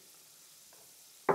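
Onion and fennel hit a hot pan for a creamy squid and scampi stew, giving a sudden loud sizzle near the end after a quiet stretch.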